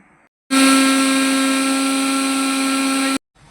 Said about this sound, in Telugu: ఇలా మిక్సీ జార్లో వేసి బాగా మెత్తగా వేసుకోవాలండి